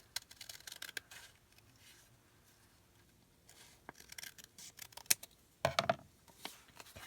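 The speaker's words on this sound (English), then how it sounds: "We'll cut this down so it will fit." Quiet snips of scissors cutting paper down to size for a napkin tag embellishment, a quick run of cuts at the start, then sparse snips and a louder rustling burst near the end.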